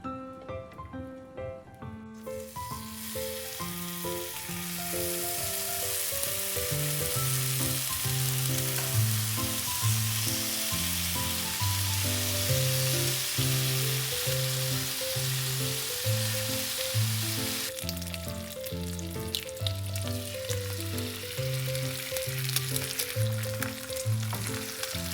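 Spam and bacon fry in a pan on low heat, giving a steady, continuous sizzle that runs under melodic background music throughout.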